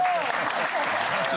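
A French TV talk-show studio audience applauds guest Tiffany Audier: dense, steady clapping fills the whole moment at close range, with faint voice traces underneath.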